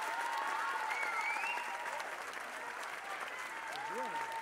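A crowd at an ice-skating gala in a rink at Covo applauds skater Marianna Torresani, a steady even wash of clapping with faint gliding tones drifting over it.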